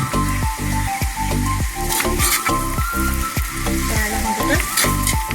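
Maldive fish and jackfruit seeds frying in a pan, a close, loud crackling sizzle with a steady beat of spoon scrapes and knocks against the pan.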